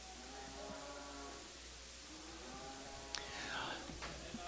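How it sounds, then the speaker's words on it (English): Bulls moving through the sale ring at a calf and stocker livestock auction, low lowing and shuffling faint under a steady murmur of voices, with a few sharp knocks near the end. "There's the same cattle. They're bulls."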